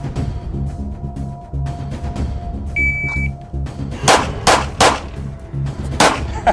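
Gunshots fired in a timed shooting drill at a gun range ring out as a rapid string of four sharp, loud cracks after a brief electronic timer beep, with low background hum beforehand.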